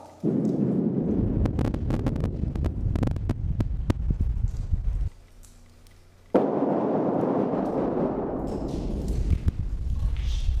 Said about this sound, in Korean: 예미산 골짜기를 울리는 묵직한 폭발음